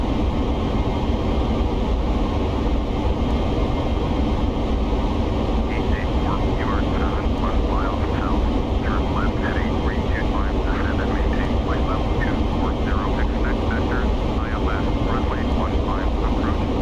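Continuous drone of a simulated airliner engine in a flight simulator during a flight from Bergerac to Birmingham, steady and loud throughout, with someone talking over it.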